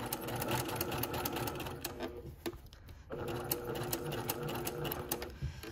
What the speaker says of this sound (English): Sometimes when you're sewing a very steep curve like this, you almost may need to stop and pivot